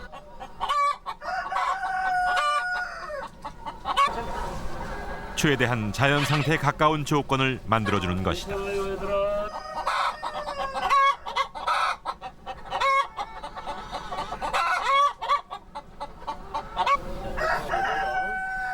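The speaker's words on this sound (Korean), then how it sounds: "닭에게는 자기들끼리 어울리면서 자기들만의 세상을 만들도록 놓아둔다." Free-range laying hens cluck busily close by while a rooster crows repeatedly through the middle section. A narrator speaks over the birds throughout.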